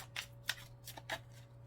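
Tarot cards being shuffled in quick riffling bursts, four or five crisp rustles over a steady low hum, close and fairly quiet.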